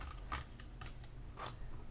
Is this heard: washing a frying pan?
no